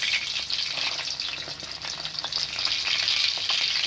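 A fish steak frying in oil over low heat to a light brown, with continuous crackling sizzle and sharp popping splatters, close and fairly loud with no talking.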